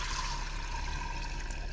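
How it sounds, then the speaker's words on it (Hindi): Soaked rice is strained for mutton biryani, water draining off through the strainer in a steady, continuous rush and trickle, close and moderately loud. "चावल को ऐसे छान लेना है।"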